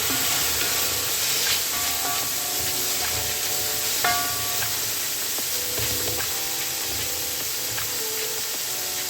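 Chopped tomatoes go into a hot South Indian chicken biryani masala and sizzle steadily up close, with stirring scrapes and faint clinks over a continuous frying hiss.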